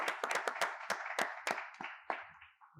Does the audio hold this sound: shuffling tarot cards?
no